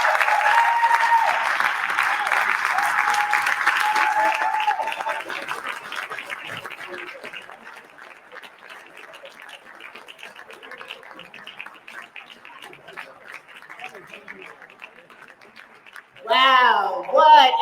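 Sustained applause from an audience at a New York City Council inauguration ceremony for the 27th District councilwoman, strong at first, then thinning to lighter scattered clapping before a voice speaks at the end.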